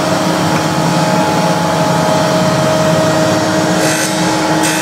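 A conventional surface grinding machine runs on automatic feed, producing a steady, loud, continuous mechanical hum and whir with a faint tonal whine, close by and unbroken, with no talking.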